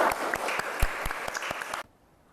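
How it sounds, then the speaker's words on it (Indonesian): A small class or seminar audience claps for a participant named Gilang, with scattered, distinct hand claps at close range and some sharp individual slaps, ending abruptly in silence after under two seconds. "Kita kasih tepuk tangan untuk Mas Gilang ya"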